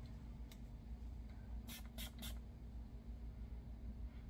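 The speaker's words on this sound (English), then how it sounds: "let me spray it on a piece of paper" Three quick bursts of perfume spray hiss close by onto paper, each a short sharp spritz, over a steady low room hum.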